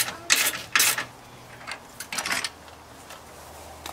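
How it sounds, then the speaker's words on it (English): A trailer tongue jack is cranked up, producing a few quick mechanical ratcheting and clicking bursts at close range in an otherwise quiet space. "we're going to lift the jack all the way up"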